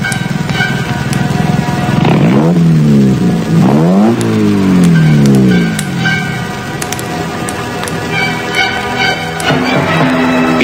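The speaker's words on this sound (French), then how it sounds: "Une voiture s'est arrêtée." A car engine revs and pitches up and down as it drives close by, then settles to a lower idle and fades as the vehicle comes to a stop, with faint clicks and high ringing in the background.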